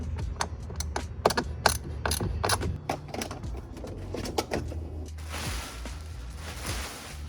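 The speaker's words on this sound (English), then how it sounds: "Now I just need to go ahead and finish tightening it up" A ratchet wrench tightens bolts on an interior bracket of a Datsun 240Z, giving close, rapid, irregular clicking bursts followed by a steadier hiss near the end.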